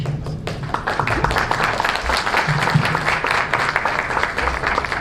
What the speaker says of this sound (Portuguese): primeiro a Ângela Souza da VIX, por favor, palmas